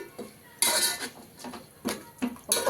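A spoon scrapes and clinks against a metal cooking pot while ingredients for chicken biryani are mixed, several loud bursts of scraping separated by brief pauses, close and with no talking.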